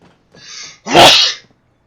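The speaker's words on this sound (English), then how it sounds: "I'm gonna sneeze." A single loud, close sneeze with a sharp intake of breath followed by the burst, from a man playing Fallout 4.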